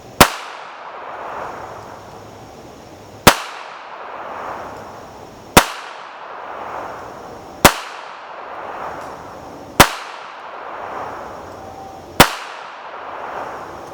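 A P-64 Polish pistol chambered in 9x18 Makarov fires six sharp, loud shots spaced about two seconds apart, each followed by a ringing, echoing decay.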